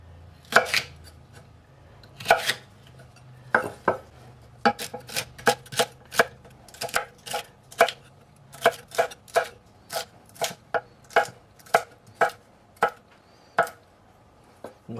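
Knife chopping celery on a cutting board: a series of sharp, close knocks, irregular at first, then a quicker, steady rhythm of single chops, with no talking.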